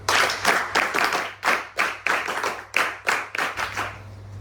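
NCC cadets clap in unison at a college felicitation ceremony, a loud rhythmic series of sharp, evenly spaced group claps close by.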